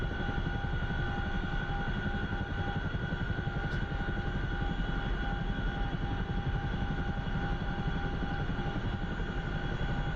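A CH-47F Chinook helicopter lining up at the Kandahar helipad in the DCS flight simulator, a steady loud rotor thrum and turbine drone with a constant whine, unbroken throughout, no talking.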